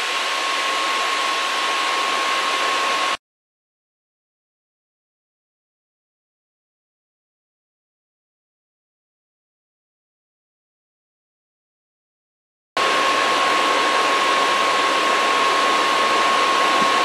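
Loud, steady whooshing of Sager NP9873 / Clevo P870DM3 laptop cooling fans spinning at full speed, about 4300–4400 RPM, with a faint constant tone, cut off by a long stretch of silence before returning.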